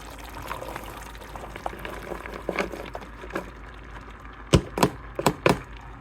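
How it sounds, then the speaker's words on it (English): A beans and maize mixture tipped into a cooking pot: a low, close rustle of pouring and shifting food, then a run of four or five sharp, loud clunks and splats near the end as the last of it lands, with no talking. "Now I'm going to add the beans and maize mixture."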